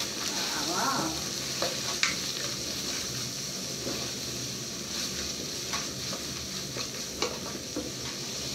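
Spiced meat fries in a pan with a continuous close sizzle, broken by occasional clinks and scrapes of stirring against the pan, with no voices.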